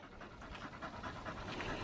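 A dog panting close by in quick, steady rhythmic breaths, with no voices.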